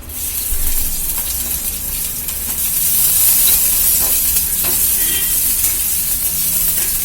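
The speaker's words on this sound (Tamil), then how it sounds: "நல்லெண்ணெய் ஊற்றி இதை வதக்கலாம்" Citron peel sautéing in sesame oil in a pan, giving a steady, close sizzling hiss that swells slightly after the first few seconds, with no voices.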